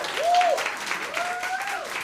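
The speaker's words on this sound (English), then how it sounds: "more round of applause" A brief burst of audience applause for a live ensemble performance, steady and moderately loud, with a rising whistle heard over the clapping.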